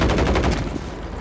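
Rapid bursts of automatic gunfire in a Rebirth Island shooter match, a loud rattling volley of evenly spaced shots that tapers off after about half a second.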